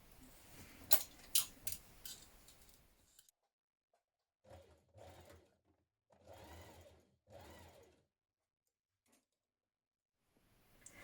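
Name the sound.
sewing machine stitching a seam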